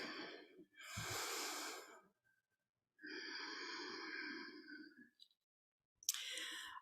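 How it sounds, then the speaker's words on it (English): A congregation at a Sunday service breathes deeply in unison: a long, airy inhale, a pause, then a slow, full exhale and the start of another breath, soft and hushed. "Let's take a deep breath together."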